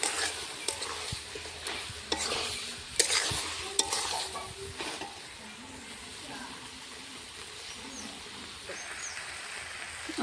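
Malabar spinach chorchori cooks in a pan with a steady low sizzle and intermittent stirring scrapes, clearer in the first few seconds and then quieter, with no talking.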